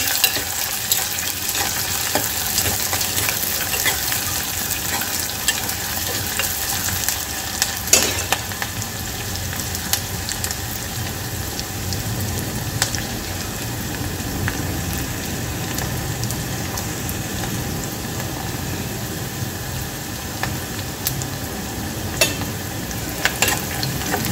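Chopped onion frying in oil inside a pressure cooker while being stirred until brown: a steady, dense sizzle with soft scraping stirs, close and continuous with no talking.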